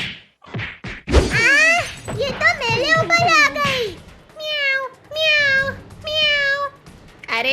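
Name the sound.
child imitating a cat meowing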